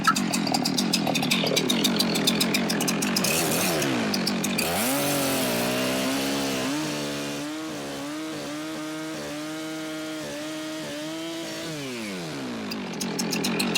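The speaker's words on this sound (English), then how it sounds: "I'm going to trim up that edge just so we have a nice clean cut here." A chainsaw fitted with a Hipa chain trims the edge of a roughly 19-inch firewood log, starting with a loud cutting roar before the engine drops to a steady, slightly wavering idle-like drone, close and continuous with no talk.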